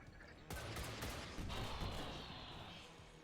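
Gunfire in the turn-based strategy game XCOM Long War of the Chosen: a sharp burst of shots breaks in after a quiet start, followed by a dense rattling volley that trails off, with no voices over it.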